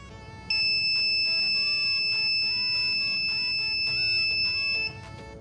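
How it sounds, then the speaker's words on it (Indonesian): A high, steady electronic buzzer tone from a parking barrier gate sounds continuously for several seconds over a busy background of clatter and ambient noise. "buzzer ini untuk dapat berbunyi seperti ini"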